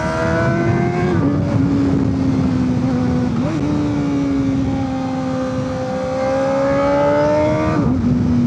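A sportbike, a three-day-old 675SR, roars past nearby at high revs, its engine tone rising and falling as it shifts and passes, loud and continuous with no talk.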